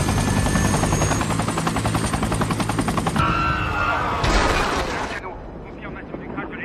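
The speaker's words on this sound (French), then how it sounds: "Confirmation du crash de l'hélicoptère." A helicopter crash in an action film: a loud, continuous rotor and engine roar with rapid gunfire-like bursts, then a sharp crashing impact and a sudden drop to a quieter rumble, with voices mixed in.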